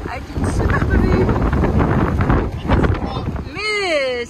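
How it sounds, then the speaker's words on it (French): Strong wind buffets the microphone on a cold, exposed hilltop, a continuous loud roar and rumble, and near the end a voice rises in a wavering, whistling tone. "Et il y a du vent, il y a 8 degrés, mais avec le vent, ça fait vachement plus froid"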